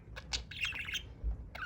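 A pet budgie gives several quick high chirps and a short warbling burst, then another chirp near the end, close and fairly soft over a low room hum.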